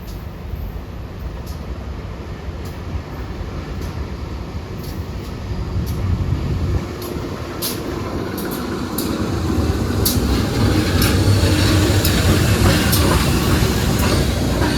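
Riding inside the Sri Tanjung passenger train out of Banyuwangi, pulled by two locomotives, a continuous broad rumble of rolling wheels and motion swells louder over time, with faint rhythmic clicks running through it.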